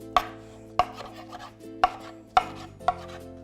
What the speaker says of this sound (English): So I'll just put it out on the cutting board and give a rough chop.